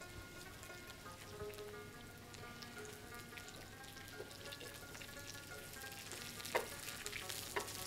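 Ribboned zucchini sizzles quietly in a pan with garlic, a soft steady crackle and hiss with a few brief stirring clicks near the end.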